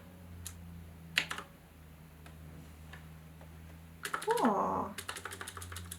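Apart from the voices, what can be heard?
typing on a Qwerkywriter typewriter-style keyboard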